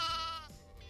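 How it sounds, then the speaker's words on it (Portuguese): A sheep gives a single short bleat, clear and close, with a wavering nasal tone that fades into quiet background noise. "Acertou quem falou a ovelha."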